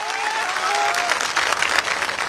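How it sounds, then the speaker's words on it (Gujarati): A large crowd applauds at a Kshatriya community mass gathering in Jamnagar, dense continuous clapping that swells slightly, with a voice briefly audible at the start. "તાળીઓથી વધાવો"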